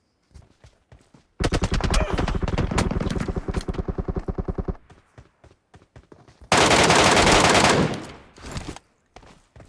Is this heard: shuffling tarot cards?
no